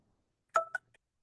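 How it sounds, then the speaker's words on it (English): A phone alarm sounds once: a brief electronic two-tone chirp, loud and close, followed by a faint short blip, with no talking over it. "Oh, my little alarm went off."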